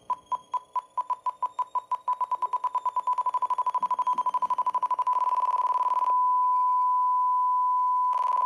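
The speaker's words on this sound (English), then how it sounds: "to start hearing a stall horn call come in, beeping in a minute" An aircraft stall warning horn beeps in a steady pattern that speeds up until it merges into a continuous high whine, cutting off briefly before returning, during an RV-7A short-field landing.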